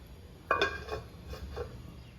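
A metal pot of vegetables is set down on a stove with a light clink, followed a second later by a softer knock, both quiet against faint room hiss.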